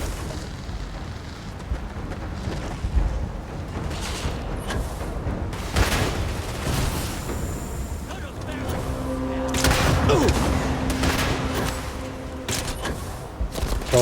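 Grenade launcher explosions in a video game: several dull booms and bursts rise out of a dense, continuous wash of game noise, moderately loud and spaced a few seconds apart.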